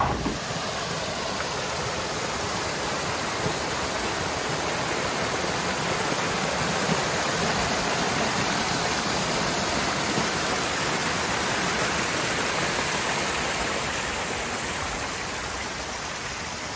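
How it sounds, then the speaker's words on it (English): Steady, full broadband rush of a waterfall at a recreation pond, loud and continuous throughout with a near, even roar and no talking over it. "Welcome to the Buky Crew Falls."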